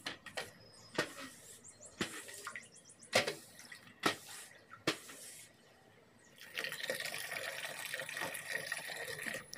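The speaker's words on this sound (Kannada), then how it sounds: "ಬರೀ ಬಾಲ್ಕನಿ ಅಷ್ಟೇ ತೊಳಿತಾ ಇದ್ದೀನಿ" Water splashes and drips while a balcony is washed. Several sharp splashes come at irregular intervals, then a steady rushing flow of water runs for the last few seconds. The sound is moderately close and there is no talking.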